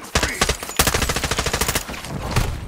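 Rapid automatic gunfire in the Modern Warfare 2 campaign: loud, close bursts of sharp shots in quick succession, a brief pause, then a longer rattling volley.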